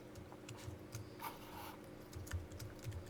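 Keys clatter on a computer keyboard as Photoshop shortcut keys are pressed, a few quick clustered clicks and taps, close and faint over a low background murmur.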